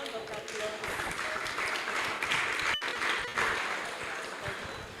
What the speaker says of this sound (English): thank you. A round of